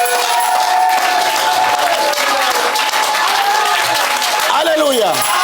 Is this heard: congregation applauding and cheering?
yes